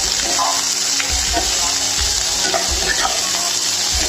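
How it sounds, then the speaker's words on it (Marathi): Ivy gourd (tondli) sabzi is stirred in a hot pan, a close, busy sizzle with repeated scraping strokes of the spoon running through the whole stretch. "तोंडली होती ती यामध्ये टाकून घेऊया आणि एकदम मिक्स करून घेऊया"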